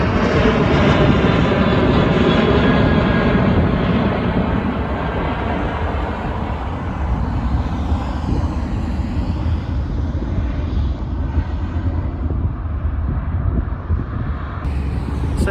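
Airplanes taking off near an airport by the Columbia River: a loud, continuous broadband roar that swells at the start and slowly eases off, with no voices.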